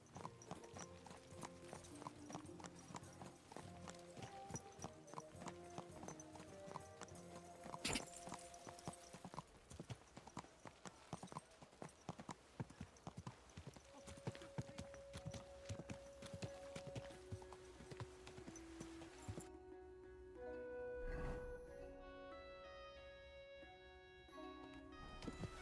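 A horse in the video game Kingdom Come: Deliverance II clip-clops closer at a steady trot, hoofbeats growing over game music, with a brief whinny partway through and the rhythm slowing near the end.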